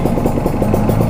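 Kawasaki Ninja RR 150 motorcycle engine running steadily up close, a continuous low throb with a rough pulsing clatter.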